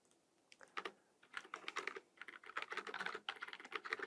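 Dates are typed on a computer keyboard in a steady flurry of quick, light key clicks that speeds up toward the end, close and fairly quiet, with no talking.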